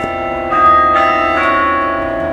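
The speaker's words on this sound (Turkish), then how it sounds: "burası çan sesleri" Church bells ring loudly and steadily in Hamburg, Germany, their tones overlapping in a sustained, resonant peal with repeated strikes.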